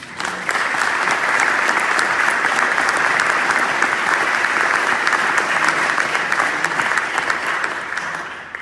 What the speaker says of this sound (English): I think that's worth another round of applause.